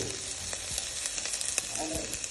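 Garlic fries in oil in a pot for Jamaican curry chicken, a constant close sizzle with faint crackles and occasional stirring clinks, no talking.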